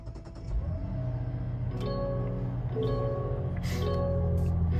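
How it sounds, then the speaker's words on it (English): Turbocharged 3.3 liter inline six-cylinder engine of a 2024 Mazda CX-90 Turbo S Premium Plus cranks and catches, then settles into a steady, close idle hum with no one talking. "So I'll put my foot on the brake and then tap this to start up the engine."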